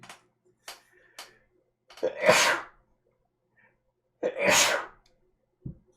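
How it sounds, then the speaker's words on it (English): Two forceful sneezes a couple of seconds apart, close and loud, with a few faint clicks and breaths between them. "I'm gonna sneeze."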